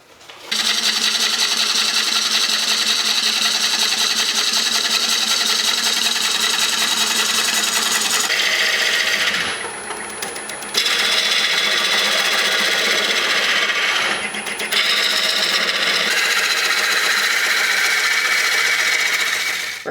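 A lathe turning a large walnut serving platter, the gouge cutting chips in a loud continuous rasping whir that drops out briefly twice as the tool lifts off, then resumes, close and steady without talk.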